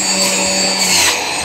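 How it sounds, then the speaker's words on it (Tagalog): A kitchen blender whirs steadily while blending fruit, a loud, continuous motor whine with high buzzing overtones that holds throughout. "nandun sa kusina, nag-blender ng prutas."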